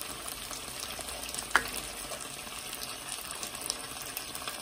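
Potatoes cook in a pan of adobo sauce with a low, steady bubbling sizzle and a small clink partway through, quiet and close, with no voices.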